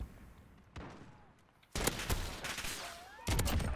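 Desert Eagle pistol shots in a Modern Warfare match, several loud sharp cracks spaced irregularly, with a heavier burst near the end.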